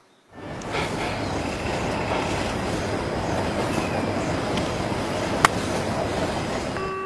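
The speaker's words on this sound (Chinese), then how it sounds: "怎么有火车声啊？" A train rumbles steadily and loudly, a continuous rolling roar with faint clatter and one sharp metallic click partway through.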